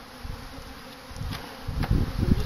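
Honeybees swarm around an open apiary hive during a late-winter check, a steady close buzz that swells louder toward the end, with no talking over it.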